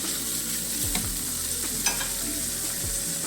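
Bacon and chorizo fry in a pot for charro beans with a steady sizzle, while a few utensil scrapes and stirring knocks sound up close.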